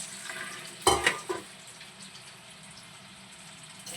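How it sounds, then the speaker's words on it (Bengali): Jackfruit and prawn koftas fry in hot oil, with a short louder burst of sizzling and spitting early on that settles into a steady, even sizzle. "কোপ্তাগুলো এখানে ভাজা হচ্ছে।"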